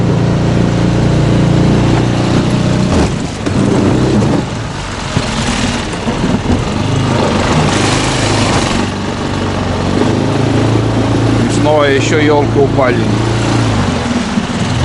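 An outboard motor on a small boat drones steadily and loudly on a taiga river, a continuous low engine hum running throughout beneath someone speaking.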